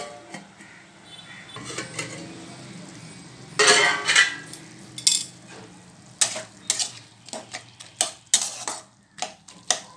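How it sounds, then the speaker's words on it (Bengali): A metal lid clanks onto a pot of bottle gourd cooking with fish head, followed by a string of sharp metallic taps and clinks of pan and utensils over a low simmer. "আমি ঢাকনা দিয়ে এটাকে আবারও ঢেকে দিচ্ছি"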